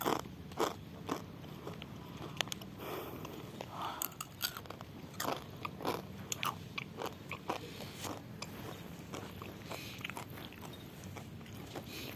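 Mama instant noodles being eaten up close, with crisp crunchy bites and chewing clicks in an irregular rhythm over a faint background hum, no talk.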